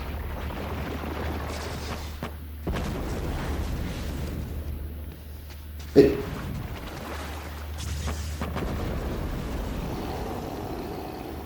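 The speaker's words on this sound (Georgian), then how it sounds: "ეს რაც აფეთქების ბრძანებლობა" A combustion-bending blast from the animated series Avatar: The Last Airbender, Book 3 episode "The Beach": one sharp explosion hits midway with a brief rumbling tail over a steady low background.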